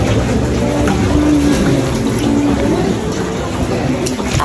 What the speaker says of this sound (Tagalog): pinasok na yung bahay namin ng tubig baha